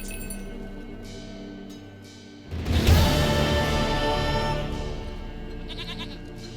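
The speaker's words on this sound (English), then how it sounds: "Goat of mine, dearest, sweetest goat." Goat bleating in The Witcher 3, sounding as a single bleat at moderate volume over the game's ongoing ambient background.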